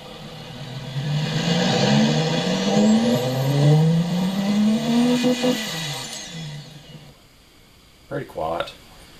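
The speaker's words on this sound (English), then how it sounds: "Yeah, we'll listen to this V6." A V6 car engine revs up through rising pitch sweeps in the video game Automation, loud and close, then cuts out, followed by a brief voice.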